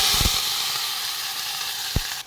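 Mustard seeds, onion and potato sizzle steadily in hot oil for a Gujarati onion-potato dish, a continuous loud hiss with a few sharp pops near the start and one more toward the end.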